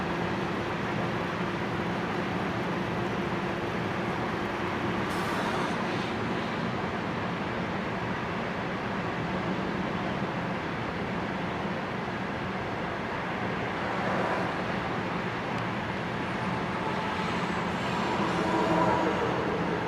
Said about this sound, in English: So here we will watch the Dash 9, the SD70M, as they will lead this NS coal train as he will continue east to Pier 6.